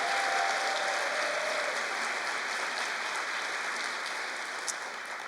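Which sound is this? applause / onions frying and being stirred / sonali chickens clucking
applause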